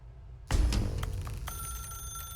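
A telephone rings in the video game The Stanley Parable, bursting in suddenly after a brief quiet and continuing as a loud, steady electronic bell tone with a sustained ring.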